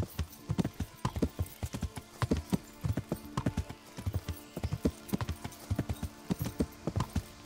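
A horse gallops steadily in Kingdom Come: Deliverance, rhythmic clip-clopping hoofbeats close and clear throughout, with faint background ambience and no speech.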